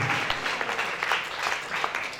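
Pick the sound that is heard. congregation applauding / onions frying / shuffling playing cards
congregation applauding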